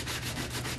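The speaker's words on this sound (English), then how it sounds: "Sand your block down as good as you can." A wooden block being sanded by hand, the abrasive rubbing in steady back-and-forth strokes, close and fairly loud with no talking.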